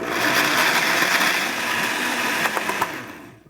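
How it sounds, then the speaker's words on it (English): A blender whirs steadily, blending Thai curry paste with coconut milk for a fish curry: a loud, continuous motor drone with a few clunks near the end before it winds down and stops. "Now I'm going to blend this, but I'm going to add some of my coconut milk in here just to help it go."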